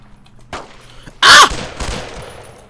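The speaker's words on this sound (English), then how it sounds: "Oh, I had a fucking Tommy gun?" A Tommy gun fires in Brothers In Arms: Road to Hill 30 as one loud, close burst lasting a fraction of a second, standing out against quieter scattered game sounds before and after.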